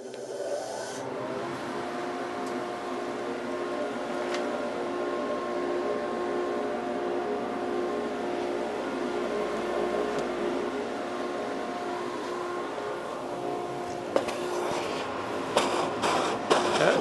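A cyclone dust collector runs steadily during a dry-run suction test of a workshop setup upgraded from a single-stage to a two-stage system, giving a constant broadband whir and hum with a few sharp clicks near the end.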